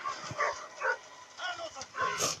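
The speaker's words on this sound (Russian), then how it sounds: "Да, заткнись уже, достал лаять." A dog barks in short bursts, about five sharp yaps spaced roughly half a second apart, close and fairly loud against a quiet background.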